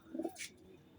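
Pigeons newly paired in a Punjabi loft give a short, soft coo near the start, followed by a brief higher rustle, all at low volume.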